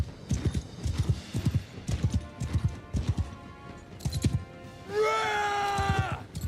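A horse gallops in Mount & Blade Bannerlord with rapid, rhythmic hoofbeats close up, then a loud, drawn-out neigh near the end over continued hooves.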